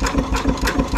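A steam traction engine runs steadily nearby with a rhythmic chuffing and mechanical clatter, a loud continuous beat repeating several times a second with no voices.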